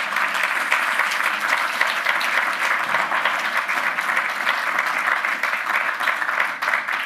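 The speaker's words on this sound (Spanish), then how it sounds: "Yo le daría un aplauso al Señor." A church congregation claps for the Lord during a sermon, a thick, sustained wash of applause from many hands that stays even and fairly loud from start to finish.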